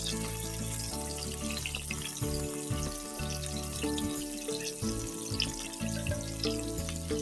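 Fried eggplant goes into a pan of onions and masala for an eggplant dopiaza. A continuous close sizzle carries light stirring and watery crackles, with no talking.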